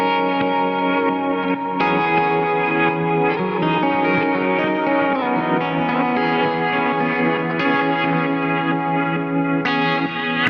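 Electric guitar chords ring out wide and shimmering with effects and echo, strummed in a steady sequence with changes every couple of seconds, loud and sustained.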